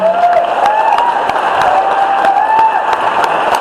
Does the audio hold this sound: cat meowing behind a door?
no